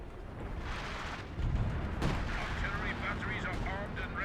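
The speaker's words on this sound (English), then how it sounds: "Artillery coming on the British forces." Artillery barrage in Company of Heroes 2 during a 4v4 match, with booming impacts and a sharp crack near the two-second mark over continuous battle noise, while a commentator talks throughout.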